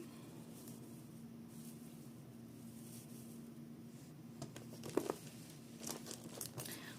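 Quiet crinkling of a plastic mailer being handled, soft rustles building into sharper crackles and crunches toward the end over a low hum.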